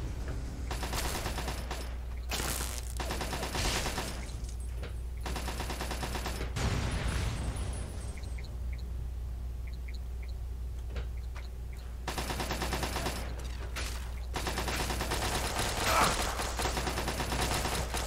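Automated turrets in Fallout 3 fire in sustained bursts of rapid gunfire, loud stretches broken by a quieter lull in the middle, over a steady low hum.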